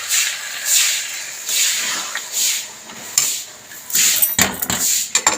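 Chicken curry being stirred in a pot after water is added, with loud repeated scraping sweeps of a spoon against the metal followed by a quick cluster of sharp clanks and taps near the end, close up.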